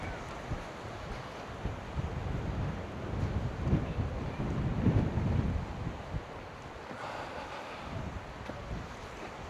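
Stormy sea waves wash and break at a beach under strong gusting wind, a continuous rough roar with surges that swell and ease, buffeting the microphone and loud throughout.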